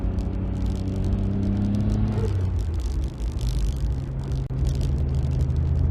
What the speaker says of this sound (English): I am driving off to put some fuel.